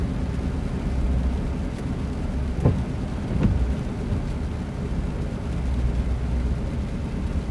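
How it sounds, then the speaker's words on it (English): Steady rain turning to sleet pattering on a car roof while driving, under a low rumbling drone, with a couple of brief sharper crackles partway through; continuous and fairly close. "I feel like the raindrops are starting to sound a little bit like sleet."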